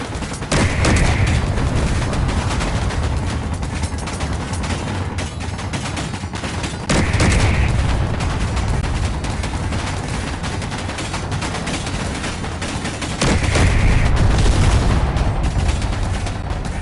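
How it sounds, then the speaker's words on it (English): Heavy weapons fire from an enemy faction in the video game Space Engineers, a sustained loud barrage with three sharp booming impacts spaced several seconds apart over a constant rumbling roar. "Oh, they're opening fire."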